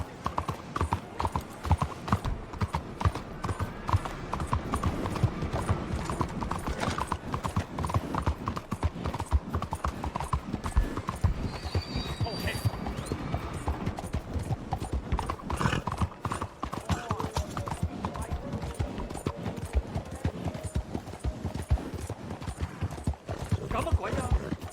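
Horse hooves clip-clop in a fast, steady rhythm during a ride in the video game Red Dead Redemption 2, with a brief whinny, ambient game sounds and a voice speaking over the hoofbeats.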